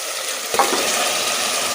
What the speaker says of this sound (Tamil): இதை எண்ணெயிலே நல்லா வதக்கிக்கலாம்.